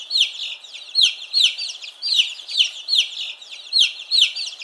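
Cartoon chicken clucking in a steady run of short, bright calls, about ten clucks repeating evenly and close up with no talk.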